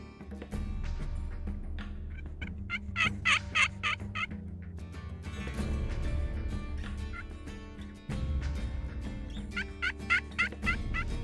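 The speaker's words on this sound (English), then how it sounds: "I start hearing clucking and butting all around behind me" Wild turkeys cluck and gobble in repeated bursts, fairly close, in a field over a steady outdoor background rumble.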